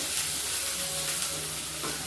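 A large chopped onion frying with salt in a pan during village cooking gives off a close, continuous hissing sizzle that stays even across the short moment, with no voices.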